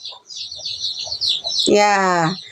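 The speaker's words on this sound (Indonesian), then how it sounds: "suara ayam nggak usah ini" A chicken gives a loud, close cluck-like call near the end, following a stretch of high chirping bird sounds with faint background noise.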